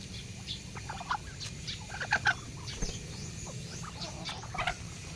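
Chickens and ducks at feeding time, with scattered clucks and short squawks over a low rustling background, fairly close, no talking.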